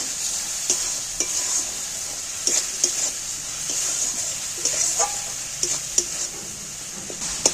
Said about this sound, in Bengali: এইবার আমি ভালো করে মশলাটাকে আবারও ঘুরে নেব